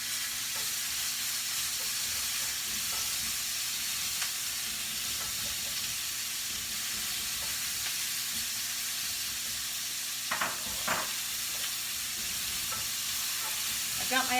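Onion and pepper frying in a pot for pollo caldero give a steady, close sizzle running throughout, with a few brief stirring scrapes near the end.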